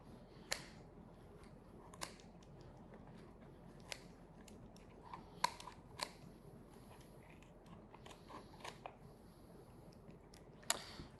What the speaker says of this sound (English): Clean this part with the scissors.